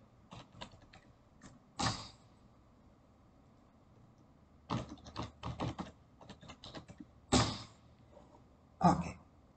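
Computer keyboard keys tapped while a password is entered, in short irregular bursts of close clicks separated by pauses, with a few louder thumps that sound like the mouse or a heavier keystroke.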